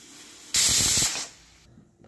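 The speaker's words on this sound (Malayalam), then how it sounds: "ഇതിപ്പോൾ നമ്മൾ കുക്കറിൽ നാലാമത്തെ വിസിൽ അടിക്കാൻ പോവാണ്" A pressure cooker holding black chicken curry with green peppercorns lets out its whistle: a sudden loud, close burst of steam hissing for under a second, then tapering into a softer fading hiss.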